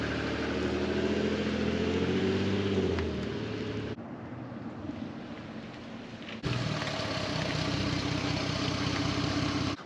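A Volkswagen EOS engine runs steadily after a CV axle swap, a continuous mid-pitched drone that drops quieter for a few seconds and then returns at full level.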